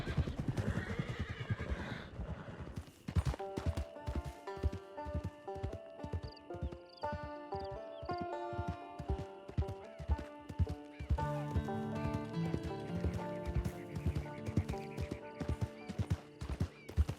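Horses in Red Dead Redemption 2 Online: a whinny opens, then steady rhythmic clip-clop hoofbeats trot along under layered western music, close and continuous.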